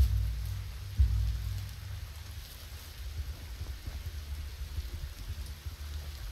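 Steady rain falls in the Biomutant video game, a soft continuous patter with a low rumbling bed and a brief thud near the start, no voices.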